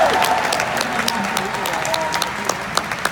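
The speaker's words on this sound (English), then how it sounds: "Big round of applause for that" Applause rises from the crowd at a fan festival event, a steady wash of clapping with sharper individual claps standing out and some faint vocal sounds mixed in.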